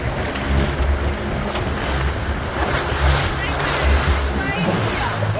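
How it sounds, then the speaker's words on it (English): A small aluminium boat rides rough sea waves, with a steady wash of water and heavy wind buffeting the microphone throughout. "Oh my god, there's actual waves out there, you guys."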